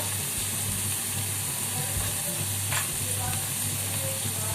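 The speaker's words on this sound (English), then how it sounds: "Saute it for a minute." Masala with sprouts sautéing in a pan for Maharashtrian misal, a constant close sizzle with a few soft stirring scrapes, heard alone without voices.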